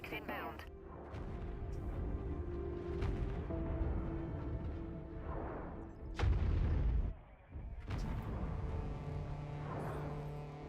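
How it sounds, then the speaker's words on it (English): Mech cannons fire in MechWarrior 5, sharp booming shots spaced across the stretch with one heavy, loud blast midway, mixed with game voice alerts and engine rumble. "these cannons are wild"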